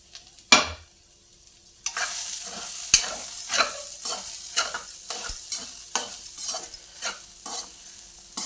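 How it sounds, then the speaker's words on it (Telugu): Meal maker soya chunks frying in oil, a steady sizzle broken by repeated spatula stirs and scrapes, loud and close, following a quiet start and a single sharp knock. "మీల్ మేకర్స్ మంచిగా నూనెలో ఫ్రై అయిపోయినాయి కదండి"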